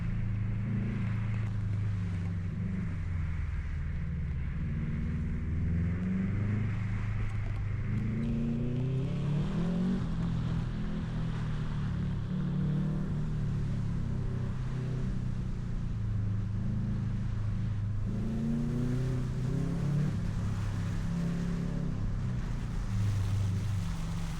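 A 2006 Subaru STi engine under full throttle on a snowy autocross course, a steady loud rumble with rising and falling engine pitch as the car accelerates, shifts and corners, wind and road noise underneath.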